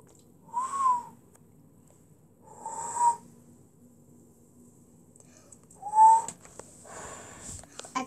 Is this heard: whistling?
yes